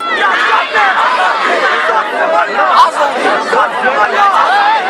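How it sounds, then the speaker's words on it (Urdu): Thousands of Kashmiri mourners at a funeral raise loud slogans against India and for freedom, a dense mass of shouting voices chanting together, close and sustained without pause. "اس موقع پر بھارت کے خلاف اور آزادی کے حق میں فلک شگاف نعرے بھی لگائے گئے"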